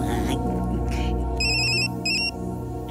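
A mobile phone ringtone chirps in two bright electronic bursts over a movie's music and background scene sound, loud and close.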